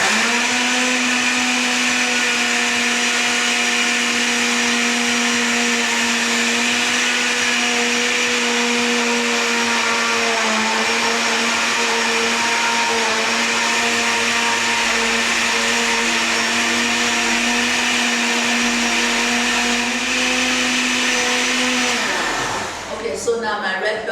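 A blender whirs steadily and loudly for a long stretch, blending red bell pepper, scotch bonnet and chili into a smooth paste, its motor holding an even pitch before winding down abruptly at the end.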